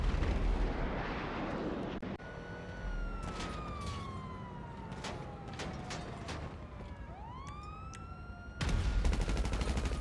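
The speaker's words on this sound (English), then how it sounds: "someone's shooting explosive rounds" Explosive rounds fired in GTA 5, heard as sharp, distant booming bursts among falling, whistling tones and a wailing siren, with a loud rumbling blast coming back near the end.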